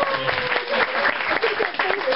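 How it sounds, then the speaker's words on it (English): Audience applause at a skeptics' fringe comedy event, a dense, steady patter of many hands clapping close by, with a few voices calling out through it. "everyone give them a round of applause"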